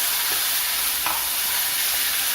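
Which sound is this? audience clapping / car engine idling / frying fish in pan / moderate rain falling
frying fish in pan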